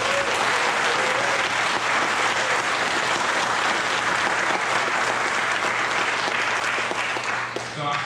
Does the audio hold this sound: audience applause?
yes